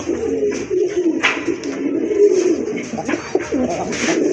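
A steady chorus of low cooing from domestic pigeons offered for sale, close and continuous with soft rising and falling throats, and occasional faint higher chirps over the murmur.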